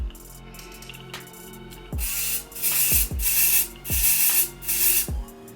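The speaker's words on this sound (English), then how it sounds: "Just kind of spray it all around." Four short bursts of hairspray hiss onto hair, each about half a second long, with brief pauses between them, close and fairly loud, with faint rustling in between.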